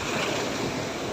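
Rushing ocean surf on a beach with heavy wind noise buffeting the microphone, a dense continuous roar.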